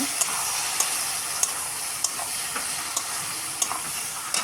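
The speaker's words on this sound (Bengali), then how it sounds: "এবার চাপা খুলে একটু নেড়ে নেব" A spoon stirs potato curry frying in a pan just after the lid comes off, striking the pan in regular light taps about twice a second over a constant close sizzle.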